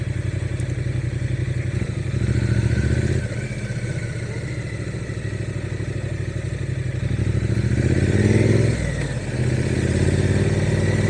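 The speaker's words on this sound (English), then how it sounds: "One good thing with this bike is if you can't see it, you can definitely hear it, that's for sure." A Triumph Street Twin motorcycle engine rumbles loud and close while riding into town, with a steady throb that eases off around the third second and then swells into harder revving near the eighth, and no talking.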